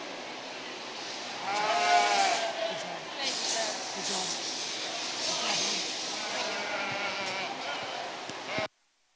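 Ewe lambs bleat at a livestock show ring at the Missouri State Fair, a few nearby bleats over a busy, noisy crowd and arena ambience before it cuts off.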